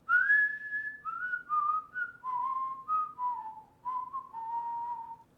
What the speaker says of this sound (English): all that we're missing to make the song complete is the whistling part